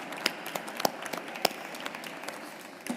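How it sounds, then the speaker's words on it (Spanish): An audience at an innovation forum applauds panelists with steady, moderately loud clapping from a crowd, sharp individual claps standing out over the dense wash of hands. "Os pido un fuerte aplauso para nuestros panelistas"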